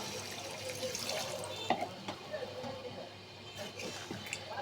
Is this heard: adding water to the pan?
yes